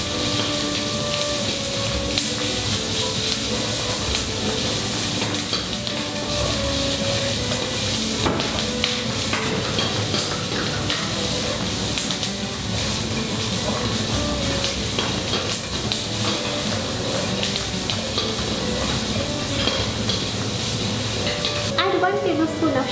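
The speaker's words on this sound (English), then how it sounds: "And saute again." Diced capsicum sautéed in a pan for chilli chicken, a steady loud sizzle with busy stirring and scraping throughout, over faint background music.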